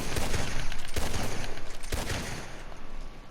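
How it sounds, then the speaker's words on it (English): Lancaster repeater rifle hip-fired in Red Dead Redemption 2, three loud, sharp gunshots spaced about a second apart, each with a ringing tail. "here's hip firing with the Lancaster repeater"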